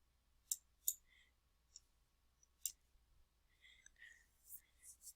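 Soft, quiet computer mouse clicks sound close, a few isolated taps spaced unevenly, with faint whispery breaths and light rustles between them.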